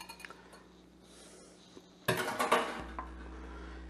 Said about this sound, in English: Then we just want to kind of give them a stir so that we can coat them all.